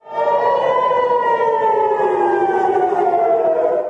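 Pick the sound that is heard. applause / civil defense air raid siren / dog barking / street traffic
civil defense air raid siren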